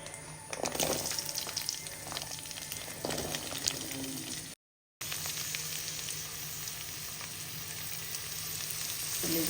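Shallots sizzle and fry in a hot pan with browned coconut for a Kerala-style duck curry, a steady close crackle with light stirring and a brief gap midway.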